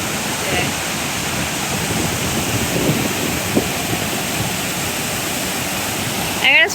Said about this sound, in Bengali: এটা হচ্ছে উচ্ছ্রী ফলস, দেখেছিস তো জল, উচ্ছ্রী ফলস।